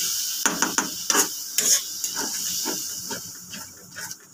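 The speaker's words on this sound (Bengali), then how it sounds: "লঙ্কা গুঁড়ো দিয়ে মশলাটা কষে নেব।" Chili powder, turmeric and cumin spices fry in oil in a pan with a constant hissing sizzle, broken by repeated scraping and stirring knocks of a spatula.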